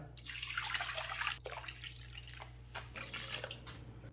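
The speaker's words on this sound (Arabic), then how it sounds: "كوبين ونص ماء دافي" Warm water poured into a bowl for dough in a home kitchen, a continuous splashing trickle that stays close and fairly quiet, with a low steady hum underneath.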